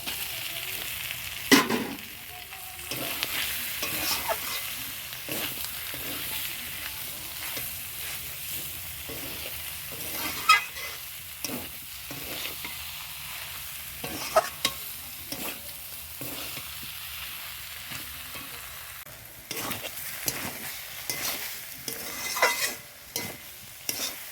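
Banana flower cooked with prawns and pre-fried spices sizzles in a pan while being stirred, giving a continuous fry with frequent scraping strokes and clacks, fairly close and alone.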